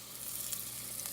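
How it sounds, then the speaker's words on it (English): Ground turkey sizzling in hot oil in a pot, a steady close frying hiss with faint crackles throughout, no voices. "we are gonna add the turkey into this pot now that we've let it heat up"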